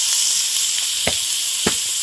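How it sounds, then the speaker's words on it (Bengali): Cauliflower florets sizzling in hot oil in a wok, a continuous close hiss broken by a few soft clacks of stirring. "কপিগুলো ভেজে নেব।"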